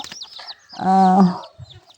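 Hens squabble at close range, one giving a short, loud, tonal squawk in the middle, surrounded by softer clucks and scuffling.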